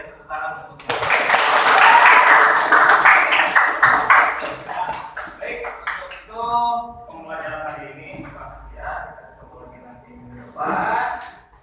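A class clapping in a classroom, a burst of dense hand claps that fades after a few seconds, followed by a voice speaking.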